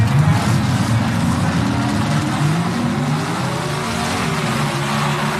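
Gas coupe sedan drag racing cars launch at the 1977 NHRA Springnationals, loud engines roaring and rising in pitch through the whole stretch, heard from the track side without talk.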